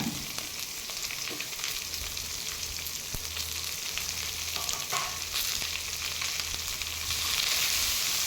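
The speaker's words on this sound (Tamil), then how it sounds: "வெங்காயம் எடுத்து நல்லா கிளறி விட்டுக்கோங்க" Onions for chicken gravy frying in a pan, giving a loud, dense sizzle that runs throughout, with occasional soft scrapes of stirring and no talking.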